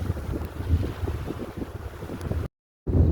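Ocean waves crash on a shore as a continuous surf roar, heavily buffeted by wind noise on the microphone, then cut briefly to silence before the surf returns.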